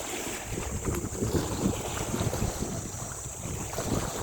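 Motorboats out on the sea at Sual, Pangasinan, heard as a dense, continuous roar of engines mixed with wind buffeting the microphone and the wash of water, loud and unbroken throughout.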